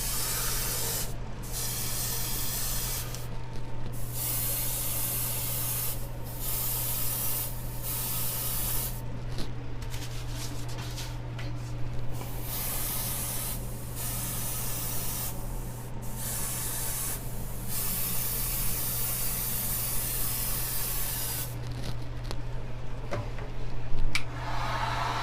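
Airbrush spraying Alclad metallic lacquer thinned with lacquer thinner onto an AMT 1/650 Klingon D7 model kit, a steady close hiss running almost continuously with a few brief pauses, over a low constant hum.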